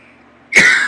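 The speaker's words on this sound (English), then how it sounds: "I'm sorry about the cough" A single harsh, raspy cough bursts out abruptly after a moment of near silence, close and loud.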